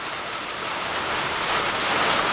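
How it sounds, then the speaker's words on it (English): Heavy rain patters steadily on a tin roof, a dense, even hiss of drops that stays loud and unbroken throughout, with no voices. "I love the sound of that rain on that tin roof."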